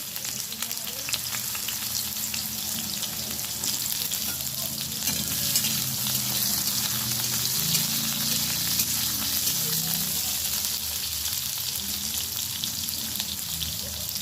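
Pointed gourd frying in hot oil with Bengali five-spice, a steady close, loud sizzle with bubbling crackle throughout, mixed with stirring and no talking.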